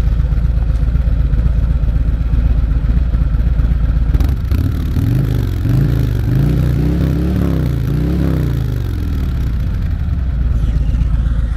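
A motorcycle engine, a 2022 Harley-Davidson Road Glide Limited, idles with a loud steady rumble and then revs through several rising and falling throttle blips before settling back to idle, close and with no talking.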